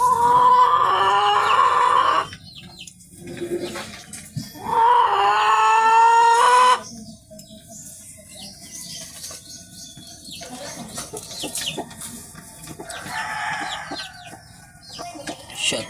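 Backyard laying hens cluck and squawk loudly up close in two long bursts of drawn-out, rising calls, then drop to scattered softer clucks and rustling.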